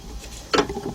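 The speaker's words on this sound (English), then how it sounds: "get your 7/8 wrench now. Go counterclockwise on the big nut in the back" A 7/8 wrench turns the big rear nut on the right outer tie rod of a 2006 Buick Lucerne, giving one brief, close metallic click against a quiet background.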